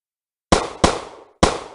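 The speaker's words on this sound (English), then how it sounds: "I was just firing out the window into the sky" Three sharp, loud gunshots are fired from a window into the sky, each a sudden crack with a short decaying echo, the first two close together and the third after a brief pause.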